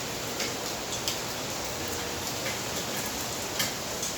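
Steady rain falls in July weather, a dense even hiss of drops with faint scattered ticks from drops striking surfaces nearby, continuous and unbroken with no voices.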